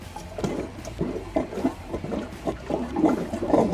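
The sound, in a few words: toilet being flushed again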